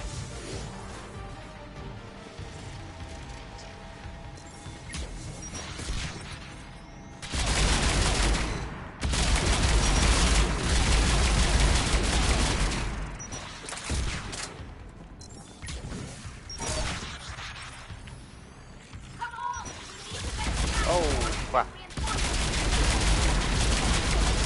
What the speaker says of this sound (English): Someone else is firing at me now.